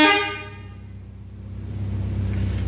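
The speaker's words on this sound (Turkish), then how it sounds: "Şimdi Arap korna." Arab-style musical car horn on a Fiat Tipo 1.6 SLXie, a loud tonal blast with rich harmonics that fades quickly, leaving a steady engine idle rumble underneath, recorded under a building.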